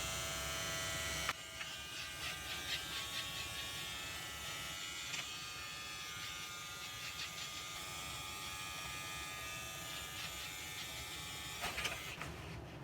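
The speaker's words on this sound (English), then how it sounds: "you want to shave everything that's under it." Electric hair clippers shave a head during a self-haircut, giving a steady close buzz that runs almost unbroken. Faint shifts in the hum follow the clippers as they move across the scalp.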